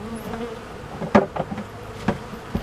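Honeybees in a hive buzz close by, a low droning hum with a few brief louder passes of single bees.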